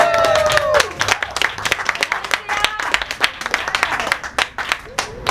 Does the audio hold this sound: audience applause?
yes